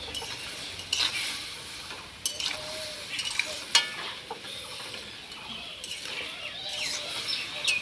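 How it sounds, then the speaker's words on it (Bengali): Potatoes fry in a pan for an aloo posto dish, making a continuous sizzle with stirring scrapes and occasional metallic clinks, close and moderately loud, with no talking. "আলুটাকে কিছুক্ষণ ভাজার পরে 1 চিমটি হলুদ দিয়ে দেবো।"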